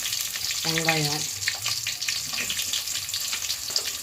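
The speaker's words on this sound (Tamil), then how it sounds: "ஆனியன் போட்டுக்கிறேன்." Onions sizzle and fry steadily in a pan for pulao, with a brief tonal whine early on over the constant close crackle.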